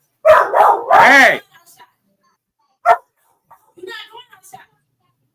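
A small dog barks in a few sharp bursts, loudest at the start, with quieter single yaps after gaps while people talk nearby.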